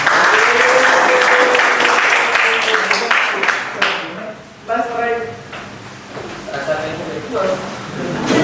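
Classroom audience clapping after a student presentation, a loud burst of applause that fades as a voice speaks over it, followed by scattered claps and speech.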